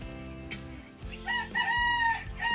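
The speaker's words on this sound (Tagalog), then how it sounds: "Ayun, may manok." A rooster crows nearby, its loud, drawn-out call rising and ringing clearly, with a short earlier squawk before the main crow.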